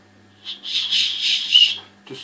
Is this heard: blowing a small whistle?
yes